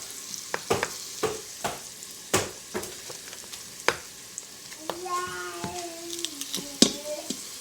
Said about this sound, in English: you just want to let your garlic saute for about 30 seconds